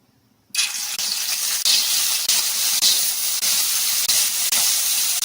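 Washed dried fish dropped into hot oil bursts into a loud, steady hissing sizzle after a brief quiet start, holding strong and continuous to the end with a few faint clicks.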